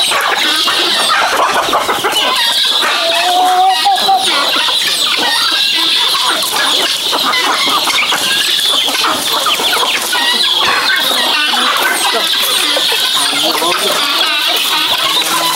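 A rooster and guinea fowl hybrid hen clucks and chatters continuously up close and loud, with repeated sharp calls and squawks, against other farmyard bird noise.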